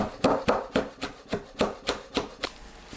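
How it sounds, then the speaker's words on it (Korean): Seeded red chili being finely chopped with a knife on a cutting board, about ten evenly spaced crisp knocks in a steady rhythm, close and distinct, with no talking. "홍고추를 씨 빼고 잘게 썰어주세요"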